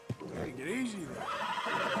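A horse in the video game Red Dead Redemption 2 gives a short, wavering whinny, with a faint hoof clop at the start and someone speaking over it.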